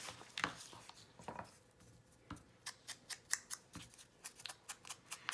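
Fancy-edge scissors snip through paper while making journal elements, a series of crisp, close cuts coming in quick irregular bursts, then a steady rhythm of snips, with no talking.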